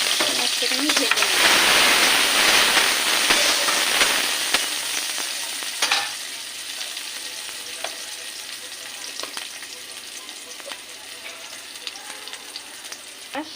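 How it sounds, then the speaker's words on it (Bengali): Chopped onions fry in hot oil in a wok with a loud, steady sizzle that starts strong and eases slightly, broken by occasional clicks of stirring, with no talking. "কড়াইতে একটু তেল দিয়ে দিলাম, দিয়ে এই একটু কুচানো পেঁয়াজ রেখেছিলাম, যেটা ভেজে নিয়েছি, পেঁয়াজটাকে আমি ভেজে নেব।"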